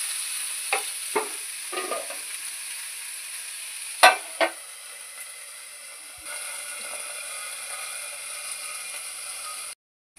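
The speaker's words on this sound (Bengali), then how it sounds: "আমাদের মাছ ভাজা কমপ্লিট" Ganges morola fish fry in a pan with a steady, bright sizzle, broken by a few sharp spatula scrapes and clatters early on, before the sound cuts out at the end.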